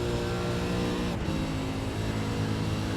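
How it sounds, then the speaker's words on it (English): Ford Mustang and RUF race cars at full speed on the Spa circuit, a loud continuous engine roar with sustained droning harmonics and a brief dip mid-way as a car passes, with no talk. "Trying to keep that Mustang ahead of that RUF car."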